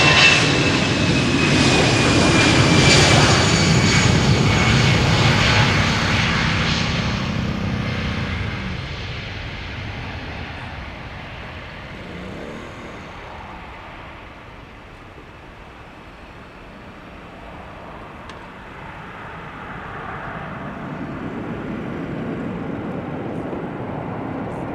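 An EasyJet Airbus A319 departs Amsterdam Schiphol for Bristol, its jet roar loud and whining at first, then fading as it climbs away, before a second faint rumble builds again toward the end.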